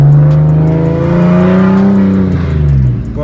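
Infiniti G37 with a wide-open exhaust dump and no exhaust, revving loud and close, a sustained raw drone whose pitch climbs and holds before dropping away near the end.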